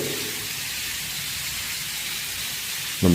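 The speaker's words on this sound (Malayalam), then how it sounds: "ഒരു കൃത്രിമമായിട്ടുള്ളൊരു മഴ പെയ്യിക്കുന്ന രീതിയിലാണ് ഇതിന് വെള്ളം വീഴുന്നത്" Steady broadband hiss of a hose irrigation system spraying water down like rain in a cardamom plantation, constant and even throughout, with a brief louder burst right at the end.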